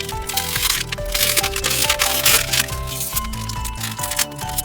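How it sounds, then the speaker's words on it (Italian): Sublimation transfer paper is peeled off a plexiglass sheet with loud, continuous crinkling and tearing, scattered sharp crackles running the whole time over low background tones. "andiamo a togliere subito la carta"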